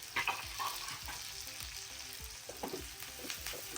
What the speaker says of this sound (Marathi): कांदा आपल्याला चांगला गोल्डन फ्राय करायचा आहे